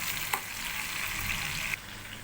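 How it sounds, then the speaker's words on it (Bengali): Tomato and green chilli sizzle steadily in hot oil in a pan, a continuous close frying hiss with a couple of sharp utensil taps as they are stirred. "এবার টমেটো কাঁচা লঙ্কা দিয়ে দিলাম দিয়ে সুন্দর করে ভাজতে থাকলাম"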